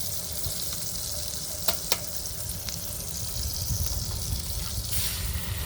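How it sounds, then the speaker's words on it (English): Eggs frying in a hot pan inside a converted school bus kitchen, a steady close sizzle with brief sharp crackles and spits, a little louder toward the end, no voices. "Okay, crack a couple eggs in there."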